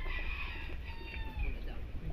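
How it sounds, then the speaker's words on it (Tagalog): A red hen clucks close by at a rural hut during a storm, a few short calls over steady wind and rain noise. "Yun, yung manok na yun."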